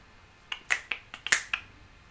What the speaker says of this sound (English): sorry for clapping